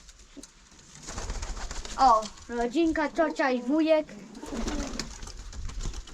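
Pigeons coo in a loft with an attached aviary, a run of rising, wavering calls close by in the middle, with someone talking over the birds before and after.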